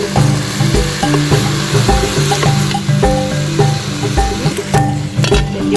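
Chayote fries in cooking oil in a saucepan, a steady loud sizzle punctuated by regular scraping and knocking of a stirring utensil against the pan, close up with no talk.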